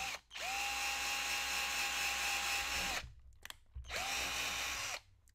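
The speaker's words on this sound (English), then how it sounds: "So let's go ahead and drill." Power drill boring holes for small ghost lights in a spooky Halloween vignette build, two sustained whirring runs of about three and one seconds, each with a pitch ramp at start, close and loud.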